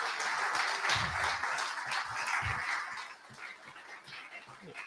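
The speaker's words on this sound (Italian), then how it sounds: "Intanto vi chiedo un grande applauso per questa bella amicizia fra Italia e Francia." An audience applauds at a ceremony marking the 25th anniversary of the twinning between Segusino, Italy, and Saint-Jory, France, with a soft, dense patter of clapping that thins out after about three seconds, and a few faint thumps underneath.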